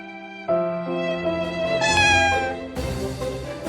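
A cat meows in a children's fairy tale, one drawn-out, rising and falling cry that is loud and close and carries alone with no talk over it.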